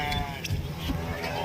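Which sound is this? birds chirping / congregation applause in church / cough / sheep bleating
sheep bleating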